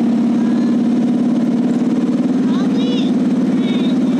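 A motorcycle carrying a child passenger hums with a steady, close engine drone throughout, a constant low rumble with faint higher sounds drifting over it.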